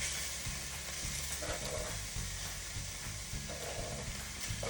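Shrimp sizzle in butter in a hot pan on the stove while seafood lasagna is being made, giving a quiet, steady frying hiss with faint crackles throughout and no talk.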